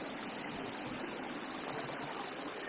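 A small forest brook near Bad Iburg burbles in a steady, close rush of water, unbroken throughout the short stretch, with no voices.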